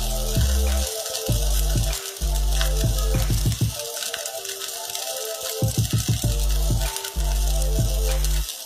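Dosa batter fries in sesame oil on a hot pan, a steady loud sizzle with crackling and spattering going on throughout, close to the pan and with nobody speaking.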